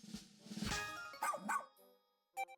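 A dog barks in Pikmin 4, a few short game-sound yips and barks in a quick burst with a brief synthetic chirp near the end, fairly quiet and with no talk over it.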